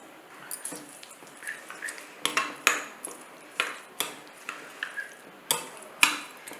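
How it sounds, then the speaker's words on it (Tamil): Salt being stirred into curd (yogurt) for Tamil-style thayir pachadi, a spoon scraping and clinking against the bowl in a steady run of close, light taps and scrapes with no talk. "தயிர் பச்சடிக்கு தேவையான அளவு உப்பு சேர்த்துட்டு நல்லா கலந்து விட்டுடலாம்"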